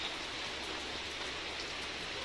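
Rain falls in an even, continuous hiss, steady throughout with no voices.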